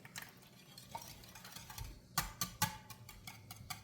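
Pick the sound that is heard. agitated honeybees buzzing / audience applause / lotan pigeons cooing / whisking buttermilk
whisking buttermilk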